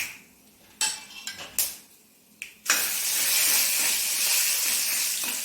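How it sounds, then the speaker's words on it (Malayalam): Mustard seeds and dried red chilies hitting hot oil for an ash gourd curry tempering: after a few scattered clinks, a loud, steady crackling sizzle takes over and continues unbroken. "അതിലേക്ക് നമുക്ക് ഈ കടുകും വറ്റൽമുളക് ഇട്ട് കൊടുക്കുക കടുകൊന്ന് പൊട്ടട്ടെ"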